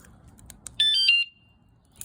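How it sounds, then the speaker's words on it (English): Regular bike alarm fitted to a scooter, a few short electronic chirps leading into a sustained high-pitched tone about half a second long, then quiet and a last brief chirp. "I also have an alarm, just a regular bike alarm I attached right there"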